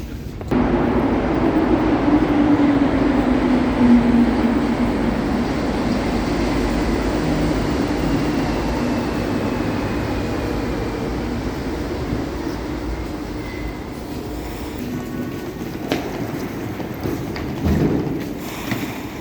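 An underground metro train rumbles steadily past a station platform, a loud continuous roar with rising and fading mechanical noise, no talk heard.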